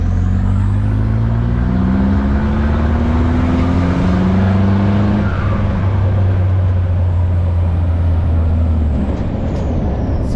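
A Mahindra Roxor off-road vehicle accelerates hard on a paved road, its engine droning loud and close with rising, stepping tones as it climbs through gears, a steady roar over rough road and wind noise.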